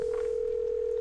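A steady telephone tone sounds while a number is dialed in the Nancy Drew video game Secret of the Scarlet Hand, one unbroken tone at an even level for about a second with no talking.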